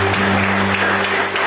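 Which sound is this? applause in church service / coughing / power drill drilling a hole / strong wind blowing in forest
applause in church service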